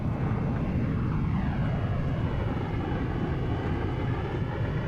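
Embraer 195 jet engines roar in reverse thrust on the landing rollout, a loud, steady broadband rush heard from inside the cabin for the whole stretch with no break.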